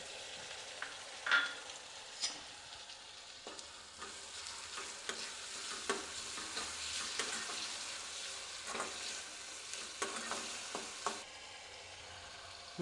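Onions and medium tomato pieces for an eggplant curry fry in a pan, with a quiet steady sizzle broken by repeated scraping stirs of a spoon throughout.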